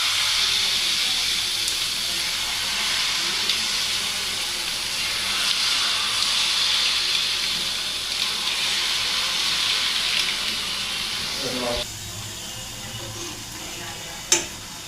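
Steady hiss and sizzle of jalebi batter frying in hot oil, continuous and fairly close, with a faint clink near the end.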